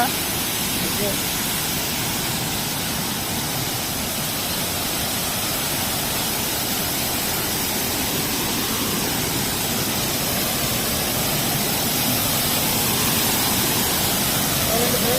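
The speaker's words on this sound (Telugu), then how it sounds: "ఎంతలా వాటర్ ఫాల్ కొండపై నుంచి ఐస్లో పడుతుందండి" Loud, continuous roar of rushing water from a waterfall pouring down a hill at Bhairavakona, Prakasam District, Andhra Pradesh, at night, a steady broadband wash with no pauses.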